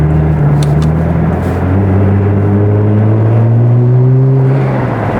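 A Nissan GT-R R35 engine idles steadily on its first start of the year, a loud, close, continuous low rumble with a slowly rising pitch as the revs climb gently, with no talking.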